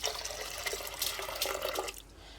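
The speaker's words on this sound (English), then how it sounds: "So I'll just be adding water now." Water pours into a pot of chicken dal (murgh daal) while it cooks, a steady, quiet splashing stream that stops abruptly just before the end.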